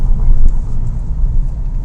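Engine of a Mini Cooper S Coupe (R58), a steady low rumbling drone held at a fairly loud level for a couple of seconds, with a faint voice underneath.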